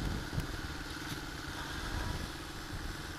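A 1981 Honda CB750 Custom motorcycle engine stuck at a high idle, as if over-fuelled, runs with a steady, even drone and no rise or fall, heard close and alone with no talking.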